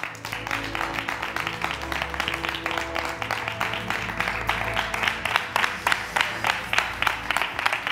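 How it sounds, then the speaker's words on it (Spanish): Dense, steady applause from a large audience, many hands clapping continuously at close range for the whole stretch. "Un aplauso inmenso, chicos y chicas, para Carlos Muñoz."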